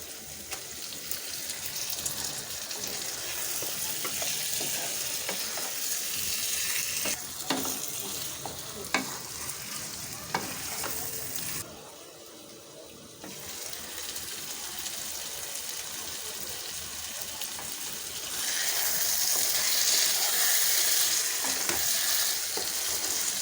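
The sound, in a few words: chicken stirred and frying with spices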